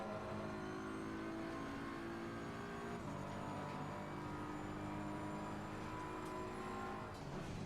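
BMW M4 race car in Assetto Corsa Competizione at Silverstone, engine droning steadily near full throttle with shifting harmonic tones through gear changes, continuous and loud with no talk.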